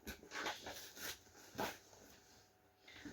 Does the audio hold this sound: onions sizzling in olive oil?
no